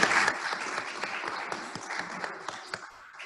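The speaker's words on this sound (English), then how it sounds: "yes, another round of applause for that." Audience applause in a hall at a Torah conference, scattered individual claps clearly separated, fading gradually over a few seconds and fairly faint overall.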